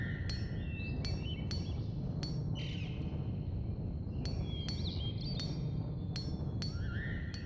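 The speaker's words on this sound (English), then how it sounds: "hitting it with a mallet." Repeated metallic tinks from a mallet tapping on a repair job in the video game Baten Kaitos Origins, sharp light strikes spaced irregularly over a steady ambient bed with chirpy game tones.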